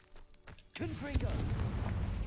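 An explosive Confringo spell from Hogwarts Legacy bursts in loudly after a near-quiet start, its blast rolling on into a sustained rumble with a voice faintly mixed in.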